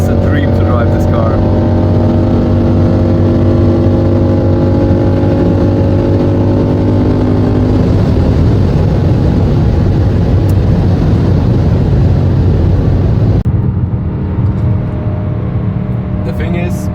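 BMW E92 M3 with an upgraded exhaust, valves held open, cruising on a German autobahn, a loud continuous engine and exhaust drone with rising and settling tones and strong road and wind roar.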